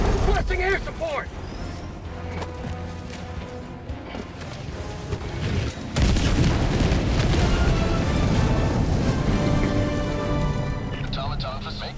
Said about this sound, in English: I'm gonna drop a bomb on it. Requesting air support!